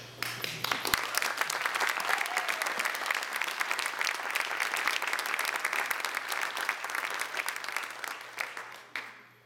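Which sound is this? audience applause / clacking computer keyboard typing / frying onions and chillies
audience applause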